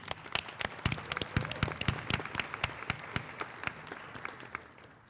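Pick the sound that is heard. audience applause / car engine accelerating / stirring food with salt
audience applause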